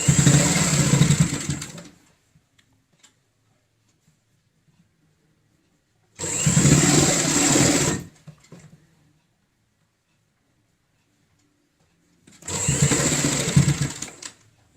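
A sewing machine stitches a door mat in three separate bursts of steady mechanical whirring, each about two seconds long, with silent pauses between them.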